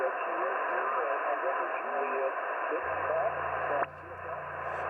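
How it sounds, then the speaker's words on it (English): An amateur radio receiver in a park hisses a steady band of static, then cuts to a lower hum, with brief tonal bleeps mixed in and a voice coming over the receiver. "And then there's little bleeps and bloops every once in a while."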